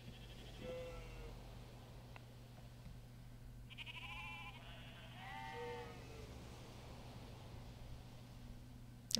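Sheep bleating in Civilization 5 plays quietly over a low steady game hum, with a short bleat near the start and a pair of wavering, drawn-out bleats in the middle, all faint and without any talking.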